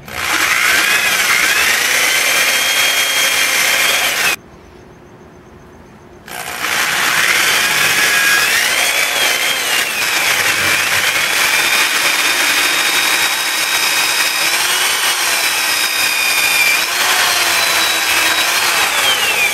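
A drill bit bores steadily into the fiberglass head of a ventriloquist doll with a loud, continuous whirring grind. The drilling cuts out briefly, then resumes and runs on with a slightly shifting pitch.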